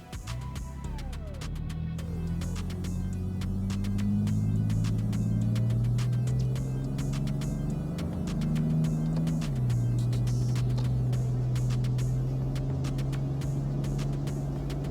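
Toyota Tacoma pickup with an aftermarket exhaust pulling away and accelerating steadily up to highway speed, engine drone rising through the gears with a shift partway, heard from inside the cab.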